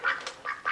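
A duck quacks in several short, nasal calls spaced unevenly across the moment, fairly close and clear with no talking over them.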